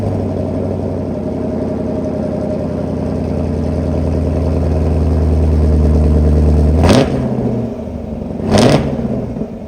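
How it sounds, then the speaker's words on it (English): A 2023 Chevrolet Camaro 2SS 1LE V8 cold-starts with a loud starter crank and bark, then settles into a steady, rumbling high idle, with two sharp blips of the throttle near the end. "I'm gonna do a cold start and then we will be on our way."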